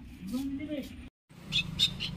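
Several short, high bird chirps come and go over a low background murmur, with a brief silent gap midway.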